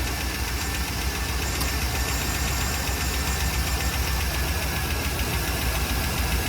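Car engine idling just after a start, a steady close mechanical rumble with a faint knocking, ticking texture, constant in level and free of speech.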